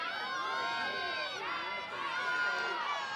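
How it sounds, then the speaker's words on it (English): Spectators at a college softball game, Kansas against Oklahoma State, fill the air with a continuous wash of chatter and shouting voices, steady and moderately distant throughout. "And terrific crowd here."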